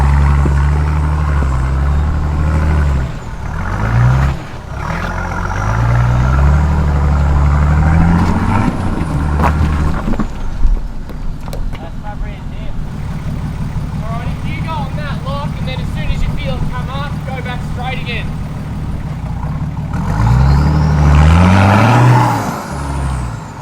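A Nissan GQ Patrol 4x4 labours up a steep, technical hill climb, its engine droning low and loud with rising and falling strain, air-brake-like hisses and clunks mixed in, and people talking over it throughout.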